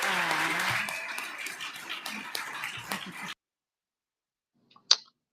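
Applause and scattered clapping for debate candidates from a small group, steady for about three seconds and then cut to silence, with one faint clap near the end.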